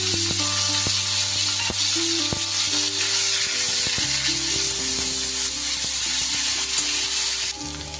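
Onion paste dropped into hot oil with a bay leaf, left from frying potatoes for a prawn curry, hissing in a loud, continuous sizzle that eases slightly near the end.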